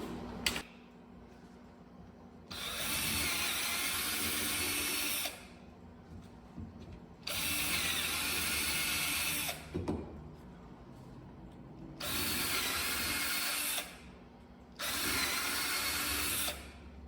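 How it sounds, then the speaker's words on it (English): A power drill whirs in four separate bursts of a few seconds each, enlarging holes in Titan lift pads, with short quiet gaps and faint mechanical clicks between them. "I also have to drill the holes out a little bit larger all the way through"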